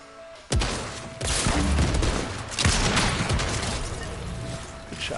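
Rapid bursts of gunfire from the video game Fortnite crackle loud and close in several clustered volleys, dense and overlapping, with a faint voice in the mix.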